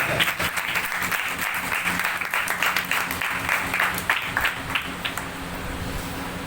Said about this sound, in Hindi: आए जोर से ताली यीशु में बजाते हैं।